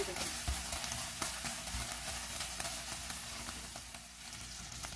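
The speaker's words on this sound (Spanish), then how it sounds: "vamos a freír la otra parte de la carne" Beef pieces frying in oil make a steady close sizzle with a few soft knocks and stirs, constant and moderately loud with no talking.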